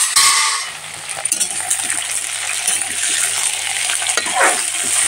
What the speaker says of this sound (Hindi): अब इसी में डाल देते हैं गोभी और पटल को। अब अच्छे से इसको हम तल लेते हैं।